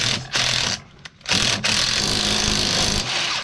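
A cordless impact driver breaks loose old light-duty bolts on an irrigation pivot gearbox, with loud, close bursts of rattling hammering and short gaps between them.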